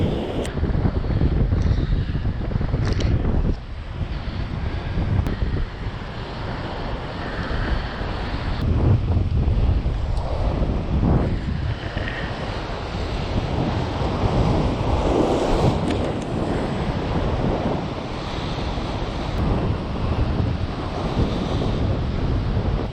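Steady roar of sea waves crashing on Korea's East Sea coast, with strong wind buffeting the microphone, continuous and loud throughout, no talking.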